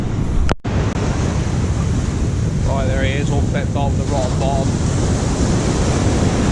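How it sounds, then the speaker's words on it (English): Waves breaking on a rocky shore along the Bristol Channel, a steady loud wash of surf with wind buffeting the microphone throughout, while someone talks over it. "you can hear the noise of the waves breaking"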